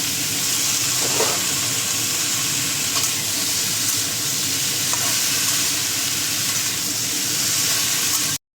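Ridge gourd and eggplant fry in a pan with turmeric and green chilli, giving a steady, close sizzle with occasional stirring scrapes throughout and no talking.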